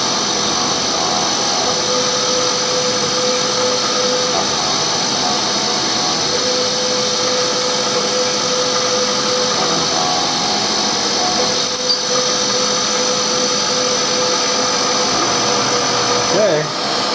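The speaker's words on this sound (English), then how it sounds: "when I get this done here with this drill, I'm going to go ahead and put the screws in and tighten them down" A power drill runs steadily during a CNC machine build, a loud, continuous whirring drone held for the whole stretch, close by with no talk over it.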